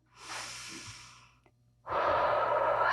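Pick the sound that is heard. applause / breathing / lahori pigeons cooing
breathing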